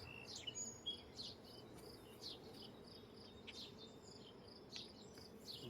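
A low, dense hum of honey bees buzzing during a beehive inspection fills the air at close range, steady throughout, with occasional high chirps above it.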